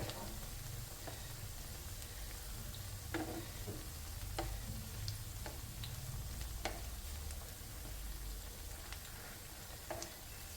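Slices of banana snack fry in oil in a non-stick pan, giving a soft, steady sizzle with scattered small pops and ticks throughout, quiet and close, and nobody talks.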